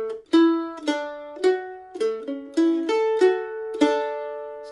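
Mandolin picking a short melodic phrase of the bluegrass tune Make a Little Boat, about eight clear plucked notes with ringing sustain, played close and alone at a moderate, even pace.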